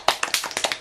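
A small group claps briefly at a podcast recording, a sparse handful of distinct close claps spread over less than a second.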